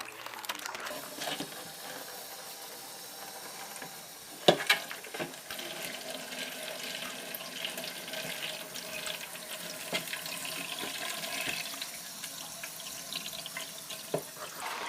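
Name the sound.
washing moss off under running water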